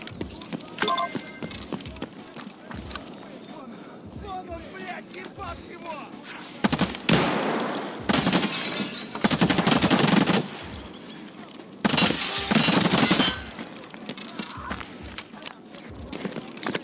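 Bursts of distant rifle gunfire from an AI scav in a first-person shooter game ring out in several loud volleys, while a player talks over the action.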